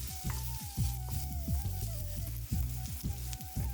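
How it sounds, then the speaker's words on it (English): Onions, minced ginger, garlic and curry leaves frying in a pan for vegetable roti, a steady close sizzle with rhythmic scraping stirs, plus a faint tonal hum running underneath. "Add minced ginger and garlic, curry leaves, add the onions"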